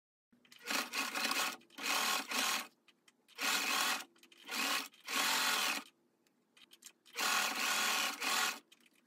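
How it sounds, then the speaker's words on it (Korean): A sewing machine stitches a hood's lining and outer fabric together for a hooded dress, running in five loud steady bursts separated by short pauses, with no talk. "모자의 안감과 겉감을 합봉을 합니다."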